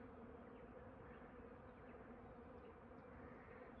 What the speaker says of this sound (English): I'm filming this so you can hear the buzzing.